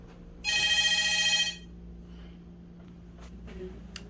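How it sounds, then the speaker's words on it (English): A hotel room telephone at a waterpark resort rings once in a single loud electronic burst of about a second, then stops, leaving a quiet room hum with a few faint clicks. "And the phone is ringing."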